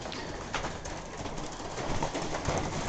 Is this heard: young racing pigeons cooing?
yes